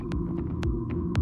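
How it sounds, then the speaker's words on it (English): A low, steady electric hum throbs underneath, with faint whooshing pulses on top, smooth and continuous with no engine rumble, from a fully electric Audi Q6 e-tron. "That's the sound of the fully electric Audi Q6 e-tron."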